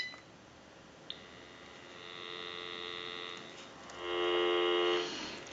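Telephone dial tone on a GE 6.0 27909 cordless telephone under repair, a steady tone that rises in level partway through over a low background hum, with a brief click near the start and no talking.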